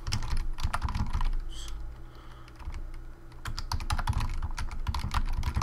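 Typing on a computer keyboard during a Warlords of Draenor gaming session, with rapid, uneven bursts of close key clicks. The clicks pause briefly in the middle and then resume, and no one speaks.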